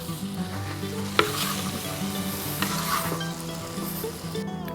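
Sweet pepper and tomato warming in a saj pan give a steady, close sizzle, with a few sharp utensil clicks and scrapes as they are stirred.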